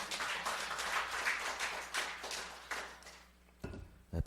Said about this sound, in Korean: 아주 박수 쳐주시면 됩니다